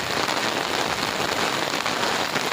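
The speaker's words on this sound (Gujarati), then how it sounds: "વરસાદ આવતો" A heavy downpour drums on surfaces in the Gujarati countryside, a loud, dense, continuous rush of rain with no voices.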